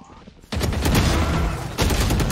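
Close, loud gunfire in the tactical shooter video game Valorant: a quiet lead-in, then a sudden burst of rapid automatic shots that continues for nearly two seconds, with a fresh volley near the end.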